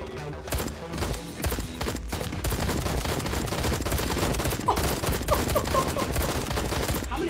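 Gunshots ring out in the VR game Night Club Simulator VR, with loud, continuous rapid fire and reverberant impacts carrying through most of the stretch.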